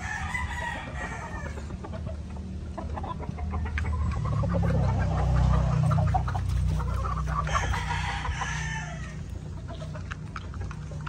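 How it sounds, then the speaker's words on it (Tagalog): A flock of young cockerels and chicks crowing and clucking together, with several overlapping crows rising and falling and steady clucking underneath, all fairly close with no talking. "Ito yung mga sisiyo at mga cockerels natin, ng mga nakarambuan."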